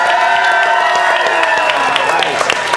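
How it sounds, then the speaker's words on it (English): A theater audience voting in a film showdown erupts in loud cheering, whooping and applause, a dense continuous roar of many voices lasting throughout. "I want you to cheer and go bananas for the film you want to see continue to Act 2"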